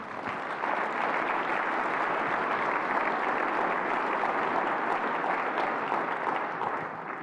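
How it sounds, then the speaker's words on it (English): Steady applause from a luncheon audience at a chamber of commerce State of the City event, dense even clapping from many hands sustained for the whole span with no voices over it. "who started that clap?"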